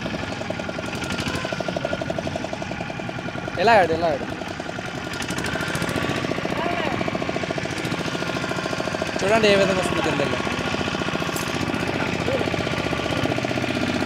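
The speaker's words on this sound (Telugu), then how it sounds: "సో ఇప్పుడు ఇంజిన్ ఆన్ అవుతుంది" A fishing boat's engine at sea off Vizag runs with a steady, rough mechanical chugging that continues throughout, with someone talking over it and two brief louder swells.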